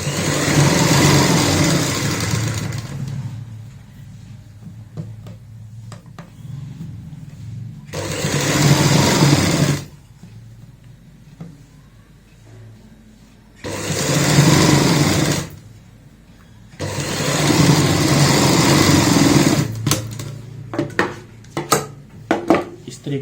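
A sewing machine stitches a seam on a girl's baby frock in bursts of steady whirring, a few seconds each, separated by quieter pauses with small handling clicks.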